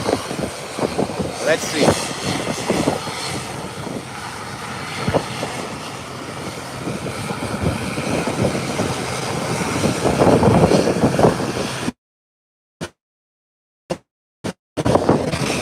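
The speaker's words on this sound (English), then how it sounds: "And the ATR seem to be coming here because the marshals are in place." ATR turboprop airliner taxiing in to its stand at Howard Hamilton International Airport, a steady broadband engine roar building toward the end, with a brief voice over it before the sound cuts out into near silence.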